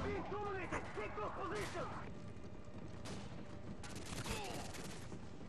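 Video-game gunfire in third-person view, with a gun that fires at a slow rate: scattered shots and explosive bursts crackle through a dense, busy game mix, with some voice sounds mixed in.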